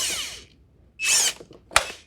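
A screw gun fitted with a small hex bit backs out the last screw on a BMW N62 coolant transfer pipe repair: two short whirring bursts of the driver, then a sharp metallic clack as the screw comes free, close and fairly loud.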